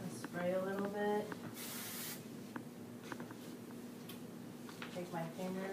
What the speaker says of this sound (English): I'll spray a little bit.